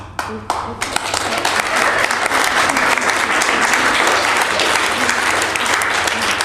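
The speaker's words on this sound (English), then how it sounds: "Good start to the clapping." Audience applauding at a parliamentary panel after a film team is credited, a few separate claps at first, then dense, loud, sustained clapping close by.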